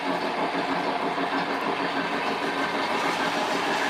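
An MTH model train runs on a layout, its wheels giving a continuous rolling rumble with faint rhythmic clicking over the track at moderate loudness, without talk.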